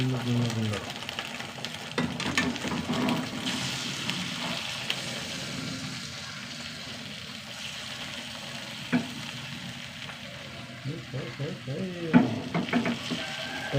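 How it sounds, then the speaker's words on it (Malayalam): Steady crackling sizzle of eggs frying in a pan, with occasional scraping and clinks of utensils against the pan. "മുട്ട വറുത്തെടുക്കട്ടെ"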